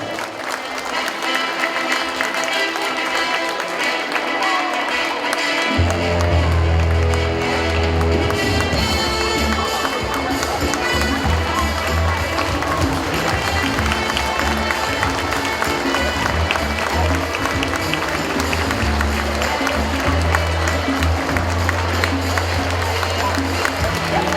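Sustained applause and cheering for the youth football team from Krzaty entering at a gala, a loud continuous crowd roar that swells after a quieter start and carries on with rhythmic clapping throughout.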